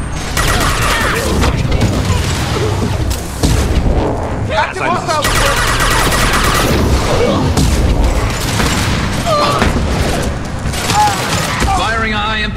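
Heavy gunfire in Mass Effect 2, with rapid bursts, booming impacts and a high-impact shot loud and close, mixed with shouted voices and combat chatter throughout.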